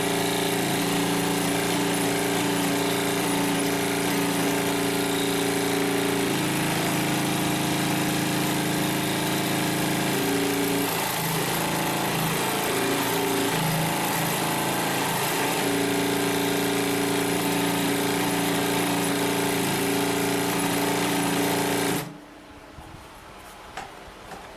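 A Consew P1541S-CC industrial sewing machine stitching through about 16 layers of material, a loud, steady motor hum with a rapid, even buzz that shifts slightly in pitch midway, running continuously for over twenty seconds before stopping abruptly.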